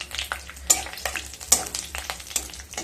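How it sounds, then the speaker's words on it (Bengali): A dry red chilli, black cumin and two bay leaves crackle and fry in a little hot oil while being stirred, with a light sizzle and a few sharp spoon scrapes close by, no talking. "তেলটা গরম হয়ে গেলে একটা শুকনো লঙ্কা, হাফ চামচ কালো জিরে, আর 2টো তেজপাতা দিয়ে দেব।"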